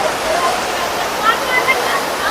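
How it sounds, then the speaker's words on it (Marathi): A forceful monsoon waterfall at Matheran keeps up a steady broadband rush of falling water with no break, close and even, while voices of people talk over it. "वॉटरफॉल बघा केवढे सुंदर सुंदर आहेत हे बघा असली लोक मजा करतात भाई कसला फोर्स आहे पाण्याला"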